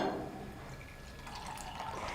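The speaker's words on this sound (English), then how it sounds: "So in one glass I am adding normal water." Water trickles faintly into a drinking glass, a soft, steady pouring patter with light drips, quiet and close, no voices.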